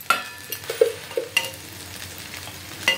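Brinjal pieces frying in a pan with chili powder stirred in, giving a soft sizzle broken by a few stirring scrapes and clinks at close range, with no voice.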